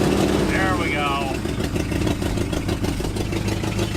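The carbureted 360 V8 in an old 1970s Jeep J20 pickup, revived after 15 years and suffering an exhaust manifold leak, idles with a loud, close, uneven rumble and ticking, while someone talks briefly over it.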